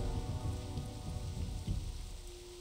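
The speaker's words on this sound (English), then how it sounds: "Here comes the rain." Steady rain in the game World of Warcraft, a dense, continuous hiss of drops on surfaces with a low rumble beneath, even and unbroken throughout.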